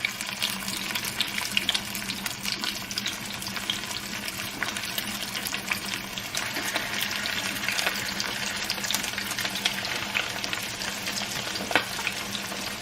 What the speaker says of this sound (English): We're gonna put the chicken in here.